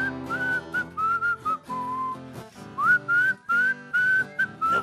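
Someone whistles a tune in a hall, with clear melodic phrases broken by short pauses, loud and close with no talk over it.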